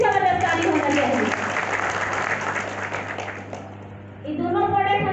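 An audience at a DXN product gathering breaks into loud, sustained applause that swells between stretches of a voice talking over a hall microphone, then fades as her speech returns.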